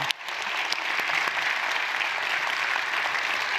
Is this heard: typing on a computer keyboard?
no